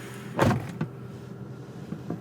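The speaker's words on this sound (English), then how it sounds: "So let's go ahead and shut the door." A car door shutting on a 2021 Toyota Venza, one muffled thud followed by a couple of faint softer clicks in a quiet setting.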